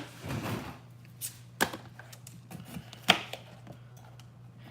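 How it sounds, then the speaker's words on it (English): A knife cutting güero chiles on a board, a few sharp, separate chops standing out against a low steady hum. "Estos sí, I do cut them."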